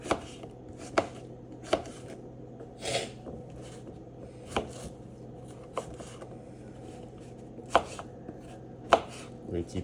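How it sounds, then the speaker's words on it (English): Kitchen knife chopping onion on a board for zucchini soup, irregular sharp taps spaced about a second apart over a faint steady hum, fairly quiet and with no talking. "I'm going to keep chopping this up."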